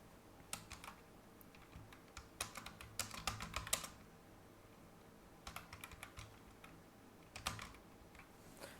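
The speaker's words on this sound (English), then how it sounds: "now first of all type your text here" Typing on a computer keyboard while entering text in Photoshop, with irregular bursts of close, crisp key clicks separated by short pauses and no talking.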